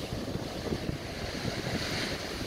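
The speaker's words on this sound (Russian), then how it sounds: "А вон там Атлантический океан уже." Atlantic Ocean surf breaks near black rocks on the coast of St. Kitts, a continuous wash of waves mixed with strong wind buffeting the microphone, with no voices.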